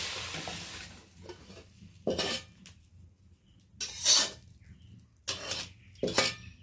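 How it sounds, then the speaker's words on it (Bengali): Okra frying in a pan, stirred in several distinct bursts of spatula scraping against the metal with quieter sizzling in between, close up. "এরপর অল্প আমি নেড়ে নেব নেড়ে নামিয়ে রাখবো"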